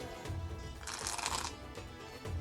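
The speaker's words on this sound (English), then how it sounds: "now we're gonna perform a Riffle Shuffle" A Magic: The Gathering card deck riffle-shuffled once, giving a quiet, close burst of rapid fluttering card flicks that lasts about half a second amid soft handling noise.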